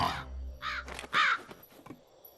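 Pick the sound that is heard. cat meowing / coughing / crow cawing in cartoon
crow cawing in cartoon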